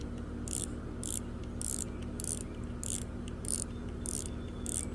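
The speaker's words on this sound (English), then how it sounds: "So you're gonna turn it to your left until you can get this drag spool off." Drag knob on a spinning fishing reel being unscrewed by hand, giving eight evenly spaced bursts of sharp ratcheting clicks, close and crisp over a quiet steady hum.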